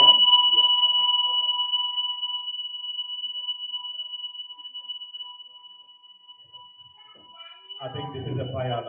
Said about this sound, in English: I think this is a fire alarm, so we need to walk out calmly.